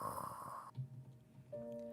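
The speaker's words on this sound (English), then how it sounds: "Luca was snoring on Orlok's lap." A sleeping character in the Piofiore: Fated Memories visual novel gives a brief, soft nasal snore, framed by quiet tonal game music that fades out and then returns.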